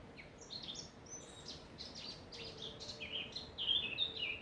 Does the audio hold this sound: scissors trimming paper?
no